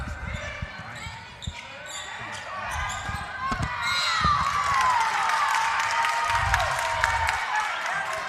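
A high school girls' basketball crowd at the Old Fort Classic tournament cheers and yells for Roland, the noise swelling from scattered shouts into a loud sustained roar, with a ball bouncing on the gym floor and squeaking shoes.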